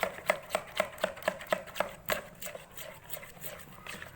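Batter for Indonesian martabak telur being stirred in a bowl, with a steady rhythmic series of soft tapping strokes, fairly quiet and close.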